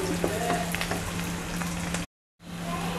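Steady, crackling sizzle of onion and garlic frying in hot oil for a raw banana fry, close and continuous, broken by a brief moment of silence before it resumes.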